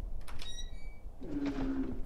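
A door creaks open in a horror video game. A thin whine gives way to a low, drawn-out groaning creak over a rumbling ambient backdrop.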